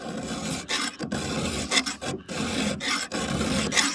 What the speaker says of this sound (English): These sit on top and you file across, friends.